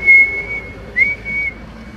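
A whistle comes over a CB radio during a mobile antenna test, two short steady high tones with a brief break between them, clear against faint static hiss.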